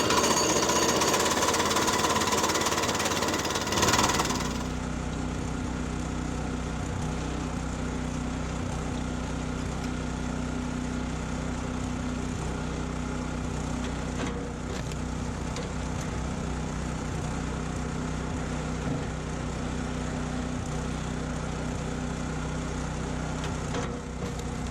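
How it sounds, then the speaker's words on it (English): An Oregon commercial kinetic log splitter works through hardwood firewood outdoors, with a loud burst of machine noise in the first few seconds, then a steady mechanical drone and occasional clanks continuing to the end. "Let's see how the splitter handles all this hardwood."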